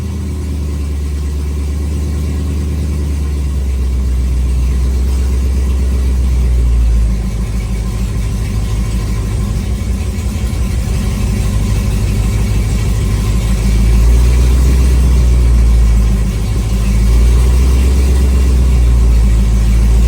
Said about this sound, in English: So what you want to do is you want to back off until you feel the car start to stumble.